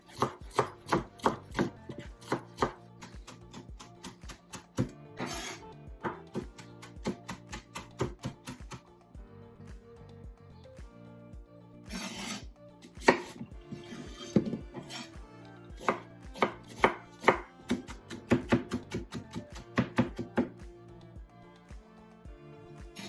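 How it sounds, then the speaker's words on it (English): Vegetables being chopped finely for chimichurri sauce, rapid rhythmic knife strikes on a cutting board in fast bursts with short pauses, close and crisp, no talking. "I'm gonna chop up the vegetables really finely."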